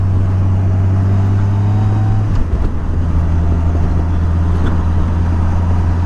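A 2007 Yamaha FJR1300 motorcycle engine drones loud and steady, with a short dip partway through as if shifting gear before it pulls on again.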